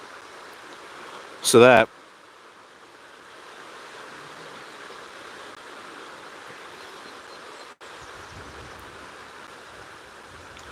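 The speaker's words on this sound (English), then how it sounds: "the river here is absolutely overflowing here" An overflowing river rushes in a steady, broad hiss that fills the whole scene, with one brief loud burst of nearby talk near the start before the water carries on alone.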